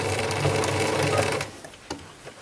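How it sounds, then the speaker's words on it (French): A domestic sewing machine stitching fabric for a beginner's fabric basket, a fast, steady close whirring and rapid needle clatter that stops partway, followed by a few faint handling clicks. "Je laisse ma machine former le point et je regarde si le tissu est entraîné."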